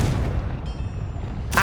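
A Confringo fire spell in Hogwarts Legacy lands as a dense, loud booming roar that sustains across the moment, topped by a sharp crackling burst at the end.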